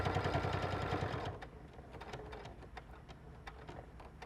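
A sewing machine runs steadily while stitching a button-out lining seam, loud and continuous for about a second before dropping to a slow, softer run with faint clicks.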